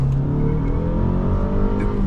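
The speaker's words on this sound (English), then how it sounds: "Even with the 4-cylinder, it's enough to roast the tires." A 2010 Toyota Camry LE with the 2.5-litre four-cylinder accelerates hard, its engine a loud, steady, close droning hum with the pitch rising slightly throughout.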